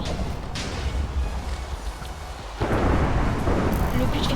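A fiery explosion set off by an orange incendiary sheep in a Minecraft mini-game roars as a dense, rumbling blast that swells louder midway and keeps booming steadily.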